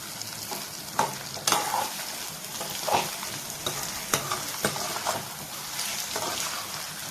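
Egg stir-fry is stirred in a hot pan, a steady sizzle punctuated by regular spatula scrapes and taps about every second, close and fairly loud, with no speech.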